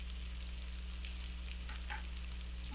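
Bacon and onion fry in a pan with a faint, steady sizzle and a few light crackles over a low background hum.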